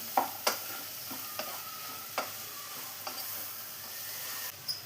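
Tomatoes sautéed and stirred in a pan for a paneer mushroom masala: a soft, steady sizzle with a few sharp spatula scrapes and clicks against the pan, fairly quiet and close, with no talking.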